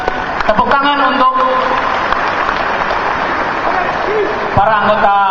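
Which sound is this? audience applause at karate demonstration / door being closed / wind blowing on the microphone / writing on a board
audience applause at karate demonstration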